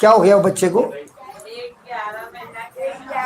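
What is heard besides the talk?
No distinct noise like a dog, phone or traffic.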